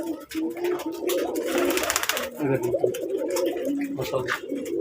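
Pigeons coo repeatedly in a farm coop, their soft rolling calls fairly close and steady throughout, with someone talking over them.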